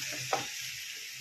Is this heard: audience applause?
no